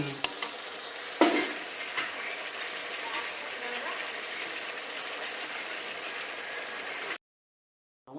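Masala paneer gravy sizzles in a pan while being stirred, with scraping and clinks of a utensil over a continuous frying hiss before the sound cuts off abruptly.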